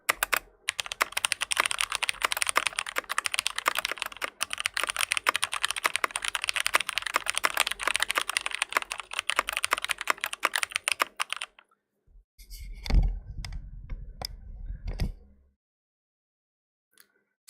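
Rapid, continuous clacking of a thocky mechanical keyboard fills most of the stretch, close and loud, then stops abruptly, followed by a few sparse, separate taps and some low thumps.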